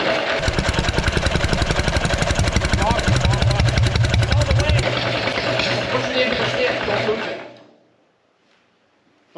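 Caterpillar D4 pony motor running rich after a rebuild, a loud rapid chugging putter with a steady rhythm that cuts out and falls silent near the end, with people talking over it.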